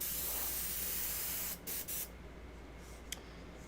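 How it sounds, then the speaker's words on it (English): Airbrush spraying paint at low pressure with the needle opened wide for a spatter effect, a steady soft hiss that breaks off in a few short gaps near the end, then resumes more faintly. "we're going to start with the airbrush here, and we need to make a spatter technique"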